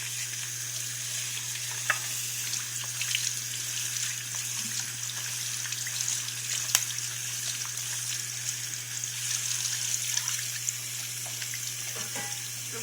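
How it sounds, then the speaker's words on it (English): Warm water runs from a kitchen tap to rinse food for a Lao cassia stew. A continuous hiss of running water sits over a low steady hum, with occasional small clinks. There is no speech. "I'm gonna rinse it with warm water first."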